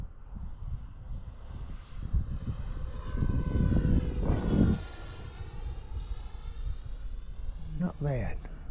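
An FMS Futura 64 mm electric ducted fan model jet flies on a windy day, its steady whine rising and falling with a pass overhead amid wind rumble, while people talk nearby.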